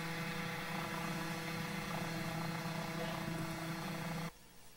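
An autonomous helicopter hovers with a steady, droning rotor and engine hum at moderate distance, cutting off abruptly near the end.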